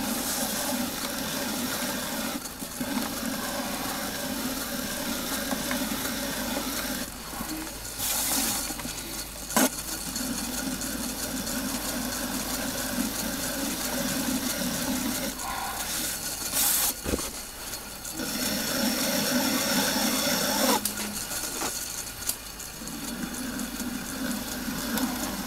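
A pottery blank is trimmed on a spinning potter's wheel, with a continuous scraping hiss of the tool cutting a concave angle on the outside, steady and close with occasional brief knocks.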